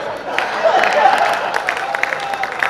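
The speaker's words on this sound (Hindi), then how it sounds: "बड़ा ये ताली कर लो" Audience clapping at a Hindi comedy poetry gathering, a steady wash of applause with scattered sharper claps running throughout, fairly close and loud, mixed with crowd murmur.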